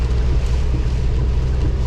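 A heavy RV driving on a highway through a violent storm, with a loud continuous low roar of wind buffeting the vehicle throughout, no voices.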